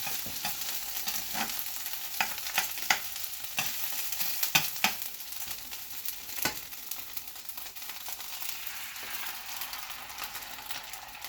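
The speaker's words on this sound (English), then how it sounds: "now we're going to cook the eggs right in the middle here" Eggs frying in a dry pan with a soft continuous sizzle, broken by a few clicks and scrapes of a utensil early on before the sizzle settles.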